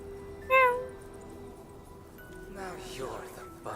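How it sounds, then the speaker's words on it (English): A cat gives one clear, fairly loud meow near the start, followed by a quieter stretch and then indistinct speech. "Stop meowing at me."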